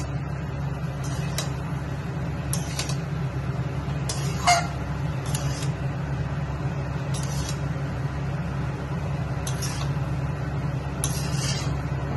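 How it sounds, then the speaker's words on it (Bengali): Chow mein noodles being stirred and tossed with vegetables in a pan, with intermittent metallic scrapes and clinks of the utensil at irregular intervals over a steady low kitchen hum. "এবার আমি ভালো করে সবজিটার সাথে চাউমিনটাকে মিশিয়ে দিচ্ছি আগে"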